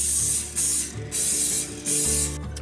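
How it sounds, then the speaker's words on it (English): Cooking spray hisses onto a casserole dish in three close, loud bursts, each lasting about half a second, with short pauses between them and no talking. "I'm gonna go ahead and spray the casserole dish too"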